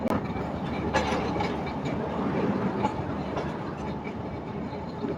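A passenger train pulls into Chenab West Bank station, steady loud rumble and rhythmic clickety-clack of wheels over rail joints, with a sharp metallic clunk near the start, continuous throughout.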